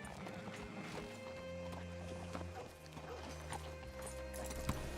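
Hooves of a horse in the Red Dead Redemption 2 game clip-clop in an uneven walking rhythm, set against a steady low hum and ambient game sounds, with no speech.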